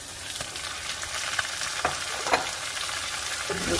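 Beef, onion and tomato sauté together in a pan, giving a steady close sizzle with scattered pops and light stirring scrapes.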